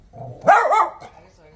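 A single dog bark, close and short, with a faint voice murmuring just before it.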